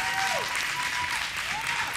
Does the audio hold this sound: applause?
yes